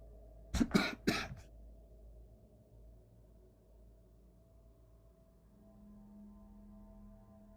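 A person coughs in a quick burst of three or four harsh, loud coughs with throat clearing, then falls quiet over a low, steady room hum.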